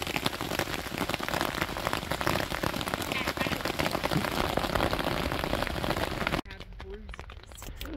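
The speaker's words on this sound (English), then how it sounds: "So it's been hailing pretty hard." Dense, rapid pattering of hailstones drumming hard on a tent's fabric, loud and continuous, then abruptly dropping to a quieter patter near the end.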